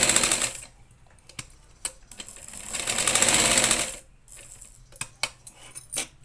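A sewing machine runs in bursts while stitching a decorative tassel, with loud whirring runs broken by clicks and clacks of the mechanism and fabric handling, close and alone without talk.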